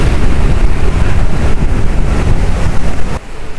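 A cool sea breeze blows at Maravanthe beach, a loud continuous wind rush buffeting the microphone, easing slightly near the end.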